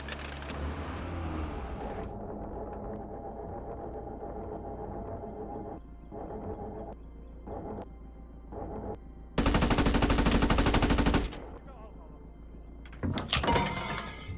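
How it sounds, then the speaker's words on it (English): Gunfire in the WWII strategy game Gates of Hell, with infantry giving cover fire: clusters of sharp rapid shots and bursts over a constant low rumble, one dense loud volley near the middle, with voices talking. "we got some basic infantry here trying to give some cover fire"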